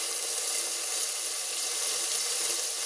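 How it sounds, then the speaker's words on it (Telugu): Sliced brinjal hitting frying tomatoes in a pan gives a steady, close sizzle with a bright watery hiss that holds evenly throughout, with no voices. "ఇప్పుడు కట్ చేసుకున్న వంకాయలు వేసుకుందామండి."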